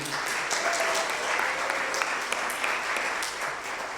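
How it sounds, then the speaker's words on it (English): Sustained crowd applause at a community Mitzvah Day opening program, a dense steady patter of many hands clapping at even loudness throughout, with faint voices mixed underneath. "Can we give them a round of applause?"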